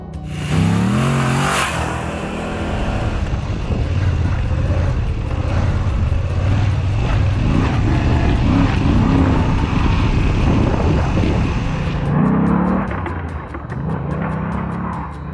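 A Moto Guzzi V85TT motorcycle rides through a national forest in California, its engine droning loud and steady with rising and falling revs and wind rush before the sound drops away near the end.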